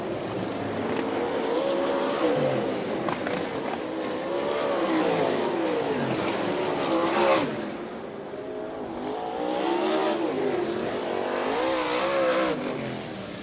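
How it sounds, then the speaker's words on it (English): Sprint cars race around the Fremont, Ohio track during an All Star Circuit of Champions heat race, engines howling and rising and falling in pitch as a pack passes, loud and continuous, with no voices. "Coming out, turn number 4, picking up the heat race win, Dale Blaney."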